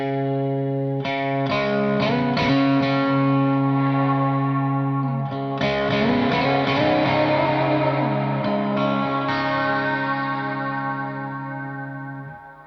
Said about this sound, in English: I think that's an appropriately named reverb machine. It's very airy.